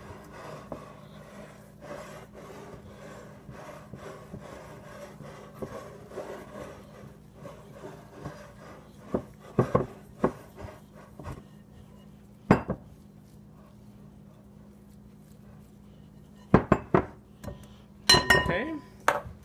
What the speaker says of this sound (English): the first thing I do is I get all of my dry ingredients mixed thoroughly